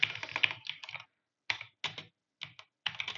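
A dnf command is typed on a computer keyboard in quick close-up bursts of key clicks separated by short pauses, crisp and distinct with no talking.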